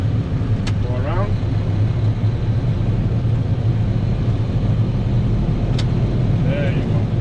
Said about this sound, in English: The sound of the engine lets you know a lot of things.